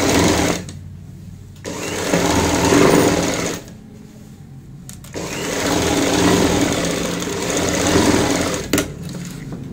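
Sewing machine stitching close along an opened zipper for a stool made from a waste bucket, running in loud bursts of steady whirring with two short pauses between runs.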